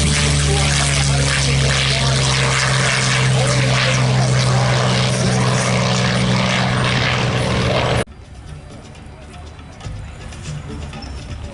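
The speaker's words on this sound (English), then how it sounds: "first aircraft on the roll. Another Lockheed product designed by the great Kelly Johnson" A Lockheed P-38 Lightning on its takeoff roll at an airshow gives a loud, steady twin-engine drone that cuts off abruptly, leaving quieter background noise, with a commentator talking over it.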